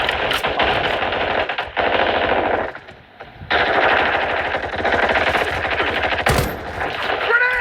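BAS-B battle rifle firing in Call of Duty Warzone Mobile, loud repeated bursts of rapid shots with short pauses and a brief lull midway, plus a sharp crack near the end, set among game sound effects.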